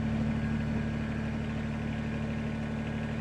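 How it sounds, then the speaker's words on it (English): A Kubota BX2380 subcompact tractor engine sits at complete idle while its front loader is raised, giving a steady, close, unbroken low rumble with a constant hum. "So at an idle, we're gonna lift this loader. So that's complete idle."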